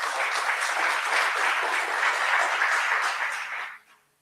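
A round of applause from the audience at a live political forum, dense and steady for several seconds before tapering off abruptly near the end.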